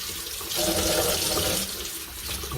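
Water running from a kitchen tap, warmed to just above body temperature for mixing powdered milk, a steady close rushing splash that swells briefly and continues with no talk.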